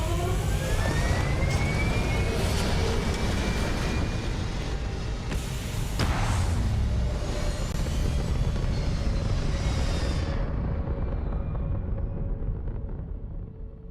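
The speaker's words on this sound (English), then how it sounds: "All thrusters firing." Spaceship thrusters roar in the Starfield game, a loud, steady rumble with rising tonal whines that holds for about ten seconds before the high end drops away and it fades.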